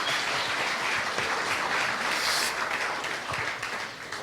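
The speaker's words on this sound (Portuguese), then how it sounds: "Dá uma salva de palmas para Jesus" An audience at a church family conference breaks into sustained applause, a dense, loud wash of many hands that holds steady for a few seconds before tapering slightly.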